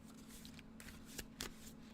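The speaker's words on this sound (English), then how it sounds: "I'm just gonna shuffle it back in" Tarot cards shuffled by hand during a horoscope reading, a quiet papery riffling with a few sharper flicks near the end, steady and close, with no talking.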